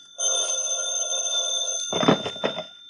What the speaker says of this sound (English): The phone woke me up.